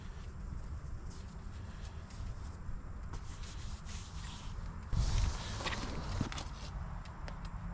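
A continuous rubbing, scraping sound comes from dash cover material on a Box Chevy dashboard as it is trimmed and tucked under. It is close and steady, with a brief louder scuff partway through.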